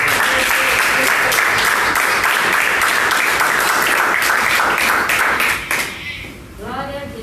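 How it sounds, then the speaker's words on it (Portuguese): A church congregation at a family worship service claps loudly and densely in sustained applause, which fades out during the last second and a half as a voice begins speaking. "com as palmas bem fortes para o Senhor."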